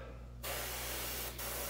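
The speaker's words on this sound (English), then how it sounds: "So I'm just gonna spray some chartreuse over it to give it like a little highlight here." Airbrush spraying chartreuse paint onto a soft plastic sponge craw lure at low pressure, a steady close hiss that starts abruptly and runs on with a brief dip near the end.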